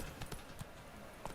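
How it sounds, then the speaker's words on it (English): Horse hooves clip-clop softly and unevenly during riding in The Witcher 3, a short, faint stretch of gameplay with a low background wash. "Esto fue lo que les faltó, que pudiéramos ir en el caballo"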